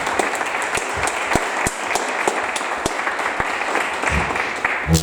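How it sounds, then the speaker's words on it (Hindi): A church congregation at a Christmas service applauding two children, dense, loud and sustained clapping with a few sharper individual claps standing out throughout. "जरा इन दोनों बच्चों के लिए जोरदार तालियां।"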